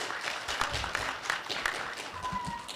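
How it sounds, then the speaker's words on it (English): Faint applause from an audience at a school civil rights assembly, a soft, even patter of clapping heard at a distance for a few seconds. "How about a round of applause?"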